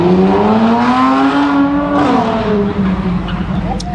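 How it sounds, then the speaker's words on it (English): A V6 Dodge Challenger drives by with a steady engine drone that rises and falls in pitch, loud and fairly close, and traffic noise continues around it. "That's a V6 Challenger"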